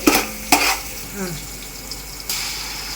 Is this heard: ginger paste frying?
yes